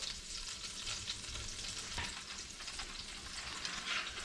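Speckled trout frying in heated butter and olive oil, a steady close sizzle and crackle running throughout with a brief louder burst near the middle.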